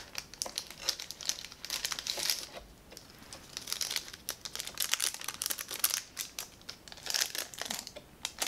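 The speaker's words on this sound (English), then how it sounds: "We can cut the tape." Packaging of a 2023 Black Series Mara Jade action figure box is handled at close range, with bursts of crinkling plastic and paper and sharp snipping and tearing sounds coming in uneven waves.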